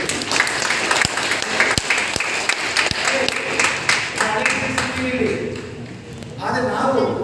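Loud applause from an audience at a Dream Deal Group company event in Chintamani, Karnataka, continuous dense clapping with sharp taps, under a speaker's amplified voice, tapering toward the end.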